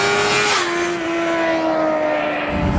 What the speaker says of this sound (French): Donc chaque montée de rapport se fera à la volée. On coupe franchement les gaz et on passe ces rapports.